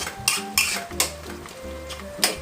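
Ground spice masala for Bengali ghugni is stirred and fried in a pan with oil and tomatoes, giving a steady sizzle broken by several sharp scraping clinks of a utensil against the pan, with no talk.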